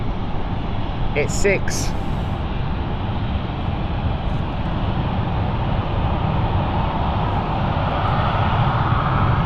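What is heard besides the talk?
airliner taking off at London City Airport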